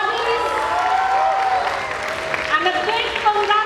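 A convocation ceremony audience applauds the awardees with steady, dense clapping from a large crowd that swells and fades. A voice speaks over the applause, and tonal music or a sustained announcement carries through it.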